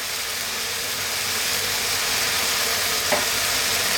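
Ground meat for lasagne sizzles steadily in a hot pan while being stirred, a loud, continuous frying hiss with no talking.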